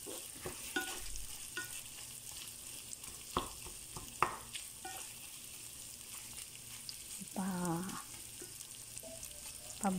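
Macaroni browning in a pan, a soft steady frying hiss broken by scattered clicks and scrapes of stirring, heard quietly at close range.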